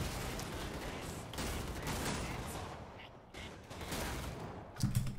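Sustained gunfire in the video game Killing Floor 2, fired by a sharpshooter, a dense nonstop clatter of shots at steady loudness for about five seconds, with a brief louder burst near the end.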